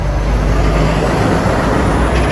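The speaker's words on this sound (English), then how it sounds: "Big truck is noisy." A big truck roars past close by, a loud, broad continuous rumble of heavy traffic noise filling the whole stretch without pause.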